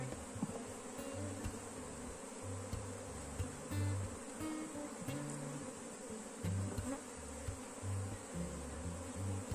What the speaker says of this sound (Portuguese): O enxame está bem controlado